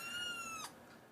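An indoor cat lets out a single clear, drawn-out meow lasting about half a second, fairly close and on its own, followed by quiet room tone.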